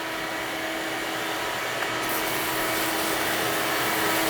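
Steady water hose spray rinsing a Jeep Trackhawk from top to bottom, a constant loud hiss running unbroken throughout, close and alone.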